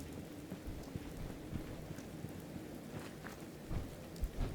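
Steady rain falls in the video game Fallout 4, a continuous even patter with a few brief thuds and no talking over it.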